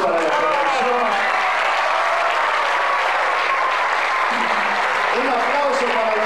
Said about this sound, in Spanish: Por favor, un aplauso para la producción